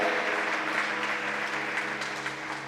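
Church congregation applauding during a sermon, a sustained wash of clapping from a crowd throughout, fairly even and slowly fading slightly toward the end.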